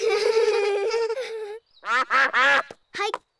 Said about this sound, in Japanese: あ、アヒルさんだ。